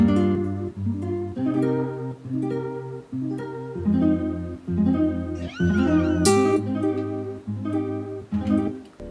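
Electric guitar chords strummed in a steady repeating rhythm, heavily processed by the Drip audio plugin, which gives a wailing, smeared character to the sustained notes.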